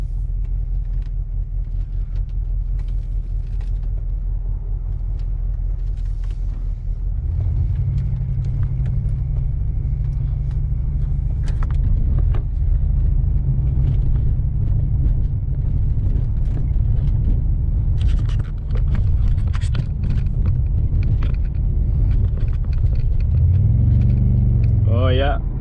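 Car engine rumbling steadily while driving around the block with a suspected shaking and stalling fault, a continuous low drone with a rise in engine tone partway through and again near the end, close and loud, with speech over it.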